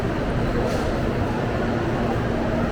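Steady low rumble of CPTM commuter trains at a busy station in Brás, São Paulo, with constant broadband noise and a faint hum, no distinct voices standing out.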